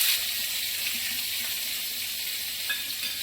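Bay leaf, dried chilli and panch phoron crackle in hot oil as a bright, even sizzle, close and steady throughout, with a couple of small pops near the end and no speech.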